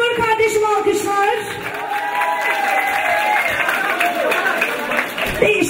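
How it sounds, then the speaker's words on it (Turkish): Applause and cheering ring out from a crowd at a halay dance party in Frankfurt, a steady wash of clapping and whoops that mixes with music and voices. "Timur kardeşim alkışlar."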